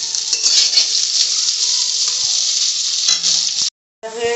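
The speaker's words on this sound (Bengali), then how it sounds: "এখন আমি এটা ভালো করে ভেজে নেব।" A lentil mixture fries in hot oil with a loud, continuous hiss and crackle, close up, with faint stirring scrapes, before the sizzle cuts out abruptly and then briefly returns.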